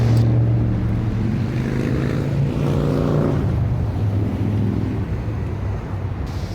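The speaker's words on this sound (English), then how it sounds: "as soon as I start recording, motorcycles start rolling through here" Motorcycles rolling along a street past an old bar, a loud steady engine rumble that swells and fades as they pass, close by and continuous with no talking.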